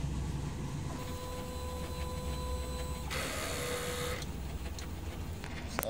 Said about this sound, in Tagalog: Next naman is mag-heat clean.